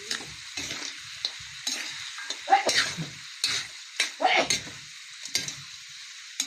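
Chicken feet adobo simmering in coconut milk is stirred in a pan, with a spoon scraping and clacking in irregular strokes over a soft bubbling sizzle, close and moderately loud.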